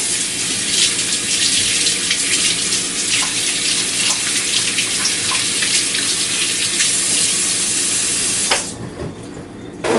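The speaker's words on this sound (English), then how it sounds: "I'll give my hands a quick wash." A kitchen tap runs loud and steady while hands are washed under the stream, then cuts off sharply near the end and leaves a quieter room.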